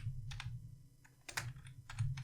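Computer keyboard keys pressed for a shortcut, several sharp clicks in quick clusters, close and fairly quiet over a low background hum.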